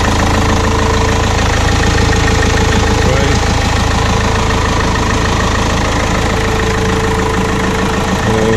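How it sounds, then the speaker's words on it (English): A steady, loud Opel Movano van engine idles close by, a continuous low rumble with a faint knocking texture that holds evenly throughout. "The engine, as they go, it's actually very clean."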